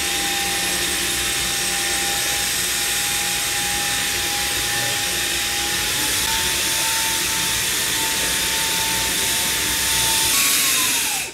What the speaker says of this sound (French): c'est quand même un aspirateur humide